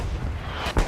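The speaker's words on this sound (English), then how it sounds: "This will be an Axis bombing run going to the back." Axis bombing run over the Hurtgen Forest in Hell Let Loose, heard as a low, continuous battlefield rumble that peaks in one dull, distant explosion near the end.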